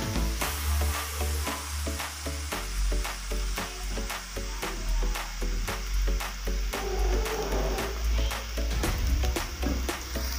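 Ginger paste hitting hot oil in a pan while cooking masala kaleji, a steady close crackling sizzle with rhythmic stirring taps running through, and background music playing underneath.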